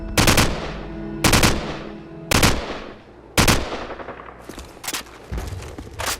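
Automatic rifle in Call of Duty 4 fired in four loud, sharp bursts with short pauses between them, each burst a rapid string of cracking shots.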